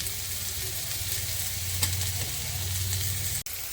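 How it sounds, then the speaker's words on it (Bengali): Pieces of sweet pumpkin frying in a pan, a continuous close sizzle with spatula stirring and scraping, one sharp knock near the end, no talking. "আমি কুমড়ো বটিটা আবারও নাড়া দিয়ে নেব"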